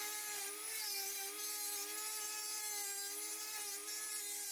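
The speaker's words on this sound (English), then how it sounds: "But don't use too much pressure when using these discs. They are best for light sanding." Dremel rotary tool spinning a sanding disc with light pressure, giving a steady high-pitched whine with a continuous rubbing, abrasive hiss throughout, close and even in level.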